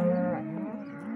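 A cow moos once, loud and close, in a single drawn-out low call with a rising and falling pitch during livestock handling.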